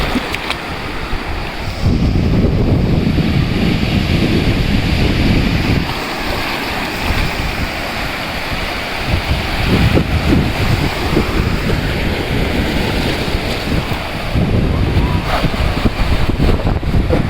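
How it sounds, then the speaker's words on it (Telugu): Sea waves surge and break at Bandar beach in Machilipatnam while strong wind buffets the microphone, making a continuous loud roar with no voices. "సో ఇదే అండి మన బందర్ బీచ్."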